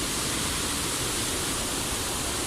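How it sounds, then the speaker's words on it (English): A waterfall on a trek in Jardin, Antioquia, Colombia, roars as a continuous broad rush of falling water, steady and close with no pauses. "Looks like we've made it to the waterfall"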